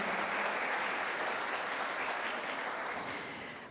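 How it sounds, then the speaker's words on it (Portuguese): An audience at a spiritist conference round table in São Carlos (CONESC 2019) applauds in a steady, dense burst of clapping that holds evenly for several seconds before cutting off abruptly. "Uma salva de palmas a todos esses."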